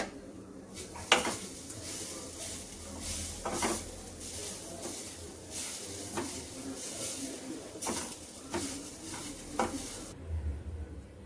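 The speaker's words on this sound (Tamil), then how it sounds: "இப்போ நம்ம தேங்காய் துருவலை போடலாம். நல்லா ப்ரௌன் ஆகிற வரைக்கும் நல்லா மிக்ஸ் பண்ணலாம்." Grated coconut being stirred and fried in a pan for dry-nut sweet laddu: a soft, continuous sizzle broken by repeated scraping strokes of a spoon against the pan, close and moderately loud, with no talking.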